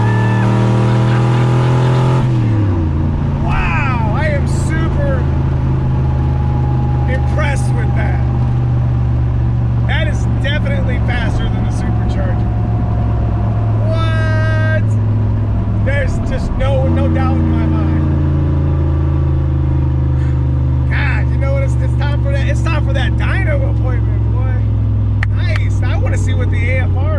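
A turbocharged Foxbody car with a GT40 setup roars loudly from inside the cabin as it accelerates hard through the gears, the engine note climbing and dropping at each shift, with people talking over it.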